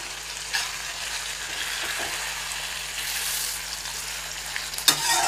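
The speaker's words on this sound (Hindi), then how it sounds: "ये देखिए दोस्तों, चिकन जो है हमारी सुनहरी होने लगी है।" Chicken fries in a kadhai with tadka, giving a steady close sizzle and hiss throughout, with a few light stirring knocks of a utensil against the pan.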